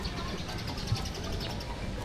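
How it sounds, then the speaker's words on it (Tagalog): Many birds call and chirp together in an aviary at Manila Zoo at 5 PM, over a steady background murmur, a dense, continuous chorus with soft coos mixed in. "and ayun yung mga ibon"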